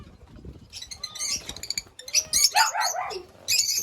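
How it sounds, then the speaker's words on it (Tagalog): Several birds chirp and whistle in quick, scattered bursts close by, with soft rustling and low background noise between calls. "So ito yung mga ating ibon."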